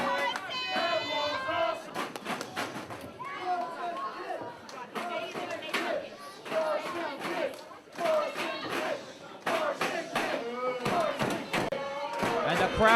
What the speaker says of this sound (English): crowd calling for it.